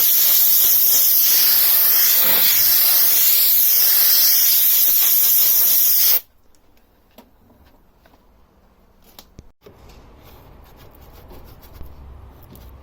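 Compressed air blows out a reusable air filter from a Nissan Primastar 1.9 turbo diesel van, a loud, close, continuous hiss for about six seconds that cuts off abruptly into quiet handling noises.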